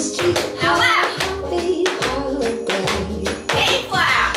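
Beginner tap dance steps to a Christmas song, crisp taps and heel strikes mixed with hand claps in a quick uneven rhythm, heard under music and an instructor's calls.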